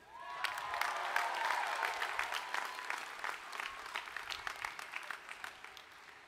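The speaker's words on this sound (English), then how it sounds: "I'd like another round of applause, if I may, for Ngozi, Scott, Gerard, and Kate" A commencement audience at Earl Warren College applauds the graduation name readers: a swell of clapping that rises quickly, stays full for a moment, then thins into scattered, individual claps toward the end.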